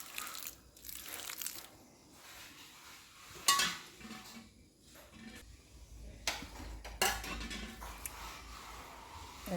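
Couscous dêguê is mixed in a bowl, giving soft grainy scraping and stirring with a few louder clinks and knocks of a utensil on the bowl. The sound is close and intermittent, with no talking.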